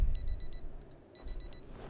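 Alarm clock ringing in the video game Project Zomboid, a repeating electronic beeping in short pulsed bursts, fairly loud over low background game sounds, stopping briefly before starting again.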